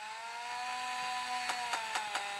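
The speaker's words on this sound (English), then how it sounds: "the butcher's chainsaw sounds like a race car" The butcher's chainsaw in the video game Clone Armies, a steady high engine whine with harmonic tones like a revving race car, joined near the end by several short bursts.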